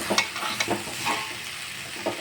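Boiled jackfruit fries in a pan while being stirred, a moderate crackling sizzle broken by several short scraping strokes at an uneven rhythm; no voices.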